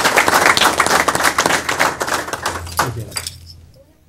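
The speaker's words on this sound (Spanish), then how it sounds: "Fuerte el aplauso, por favor." Audience applause at a fire department ceremony handing over new fire trucks, a few seconds of dense clapping that tapers off, with a low hum and a voice briefly underneath.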